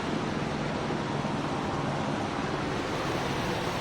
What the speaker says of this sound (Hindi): बीच में झरने आते ही,